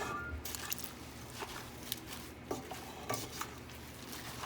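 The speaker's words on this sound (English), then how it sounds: "Then I'm gonna just stir that together." Pasta with roasted cauliflower, cheese, tomatoes and pasta water is stirred in a pan, with wet squishing and a series of light spoon clinks and scrapes against the metal at an irregular pace.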